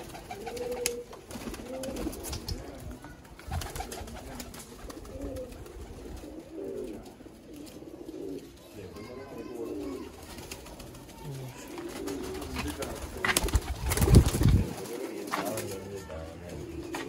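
Golden pigeons cooing in soft, low, rounded calls, several birds close by, with a rustle or flutter near the end.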